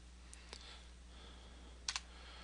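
Typing on a computer keyboard during FPGA pin setup: a few light, isolated key clicks followed by a quick double tap, close and quiet over a low steady hum.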